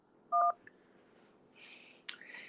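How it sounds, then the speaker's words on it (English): A single short telephone keypad tone for the digit 2 on a call-in line, a clean loud beep followed by faint clicks and brief muffled line noise. "Press 2."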